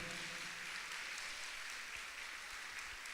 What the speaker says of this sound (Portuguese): Vamos aplaudir essas irmãs. Vamos aplaudir.